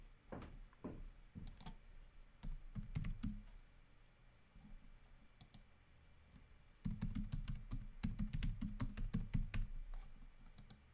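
Fingers typing a new email on a computer keyboard in Outlook, quiet close-up clicking keystrokes in irregular bursts, with a pause in the middle and then a faster, steadier run of typing.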